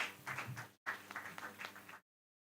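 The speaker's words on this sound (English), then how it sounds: "Let's give them a big round of applause" Audience applause for a team at a start-up community workshop: a dense, steady patter of many hands clapping, briefly cut off by a short gap, then resuming for about a second before stopping abruptly.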